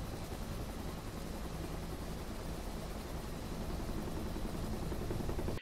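A helicopter in the flight simulator DCS World preparing to land: a steady, dense rotor and turbine roar with no breaks, constant and even throughout.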